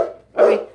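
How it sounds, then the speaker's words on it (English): A dog gives two close, loud barks, a short one at the start and a fuller bark after a brief pause. "you're not getting anything for barking"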